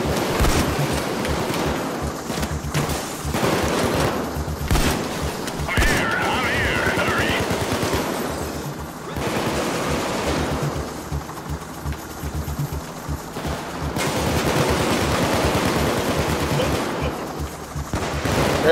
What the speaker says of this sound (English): The gun sounds are satisfying as hell.